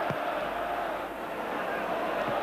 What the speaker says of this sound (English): certainly the Ibrox crowd are making up for it just now